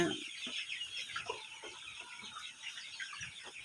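Chickens cluck and murmur on a large 3000-bird poultry farm, with many overlapping soft calls and occasional louder clucks, fairly quiet and steady with no talk.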